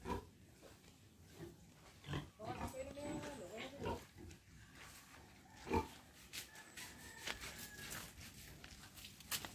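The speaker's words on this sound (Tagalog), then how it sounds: "Yan mga biik, nakain na po ng tanghalian." Piglets on a farm grunting, squealing and snorting at close range after their lunch, in scattered bursts, with a person talking throughout.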